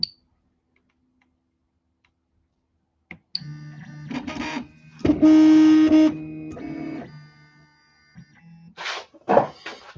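A Prusa MK2.5 3D printer under repair running its auto-home routine: a click, then whirring stepper-motor moves in distinct bursts, including a high tonal whine, separated by short pauses.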